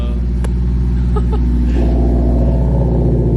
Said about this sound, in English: That's how a freaking WRX should sound